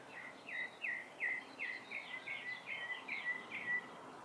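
A small bird chirps repeatedly in a quick, steady series of bright tweets against a quiet outdoor background.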